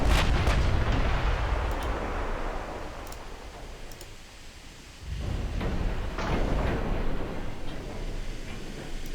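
Naval guns fire high-explosive shells at enemy ships in the WWII-era warship game Ultimate Admiral Dreadnoughts, a run of loud booming artillery blasts with a brief lull midway before the rumbling salvos resume.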